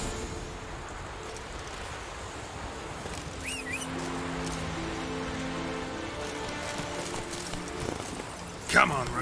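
Roach the horse runs in The Witcher 3, with soft rhythmic hoofbeats under a rain-like wash and a low musical drone, fairly faint and steady, while a voice speaks over it.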